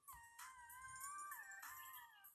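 Brownie, a puppy in Harvest Moon: Friends of Mineral Town, gives a thin, high whimpering howl in a few drawn-out wavering cries, close and alone.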